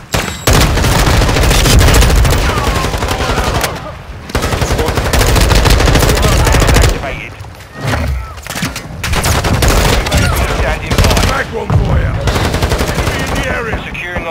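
Sustained automatic gunfire and explosions in a Call of Duty Modern Warfare 2 multiplayer match on the Shipment night map, loud dense bursts with brief pauses, mixed with in-game voice callouts.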